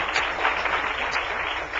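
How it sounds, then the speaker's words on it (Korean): A church congregation applauding to encourage a deacon, dense even clapping from many hands filling the hall for a couple of seconds. "이 말씀이 안 집사님 삶 속에 임하시도록 다 같이 격려의 박수를 한번"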